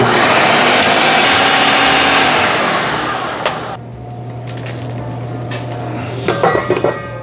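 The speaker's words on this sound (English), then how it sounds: "And one last blend should get it done." A blender whirs loudly and steadily through a falafel mixture of herbs and spices for about three and a half seconds, then winds down and stops, followed by a few light clinks and knocks.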